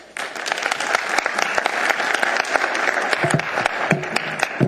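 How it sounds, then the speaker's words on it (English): Audience at a special assembly meeting in Anchorage breaks into sustained applause, dense clapping that swells quickly and holds steady and fairly loud throughout, with sharper individual claps popping out near the end. "Folks, I appreciate this applause"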